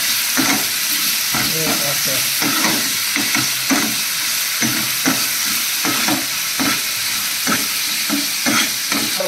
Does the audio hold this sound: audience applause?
no